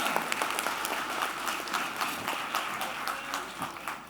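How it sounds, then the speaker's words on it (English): Sustained audience applause at a lecture by a general officer fills the space, a dense even patter of many hands clapping, loud and steady. "Big round of applause for him."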